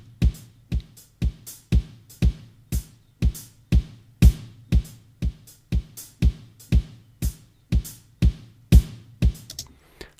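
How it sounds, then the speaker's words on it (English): Electronic hi-hat beat in 9/4, playing alone as a steady train of short, crisp ticks at about two per second, each with a bright decaying tail, over a faint low hum. "I'm going to add that hi-hat beat to all of the other clips"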